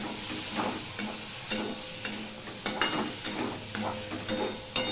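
Ginger, tomato and green chilli fry in a pan for a pumpkin dish, giving a steady low sizzle broken by repeated scraping stirs with a spatula, fairly close, with no talk.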